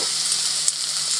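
Marinated pork hits a pan of lightly browned garlic and onion and fries with a steady, loud, close sizzle that is heard alone from start to finish.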